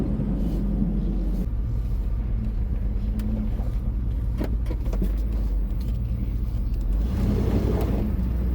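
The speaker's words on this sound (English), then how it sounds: "Oh yeah, I spun the tires." A car with big soft tires and a restored 30-year-old front suspension drives with a loud, steady low rumble from inside the cabin, swelling briefly near the end as the tires spin.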